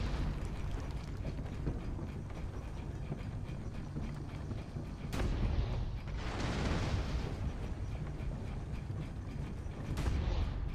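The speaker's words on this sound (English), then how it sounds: "Sadly, the cannons are the easy part of this." Cannon fire in Assassin's Creed: Brotherhood, a few heavy booming blasts standing out against a steady rumbling battlefield bed, with distinct hits near the middle and toward the end.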